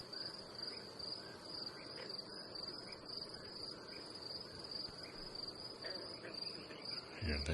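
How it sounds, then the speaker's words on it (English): Crickets chirp steadily outdoors at night in a continuous high-pitched trill, with no talking over it and a brief low thump near the end. "Yeah, there's crickets out there too."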